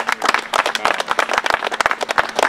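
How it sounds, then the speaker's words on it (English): A community crowd applauds at an outdoor gathering: dense, continuous clapping from many hands, loud and close, with irregular sharp claps throughout. "they all deserve a round of applause too"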